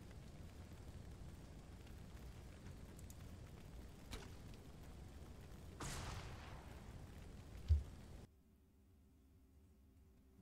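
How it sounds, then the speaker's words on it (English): Explosions from the video game Xenonauts 2 rumble through a faint, hissy background, with a few dull booms and a louder thump before the sound cuts to near silence. "Explosions in the background, which the game apparently doesn't like that much."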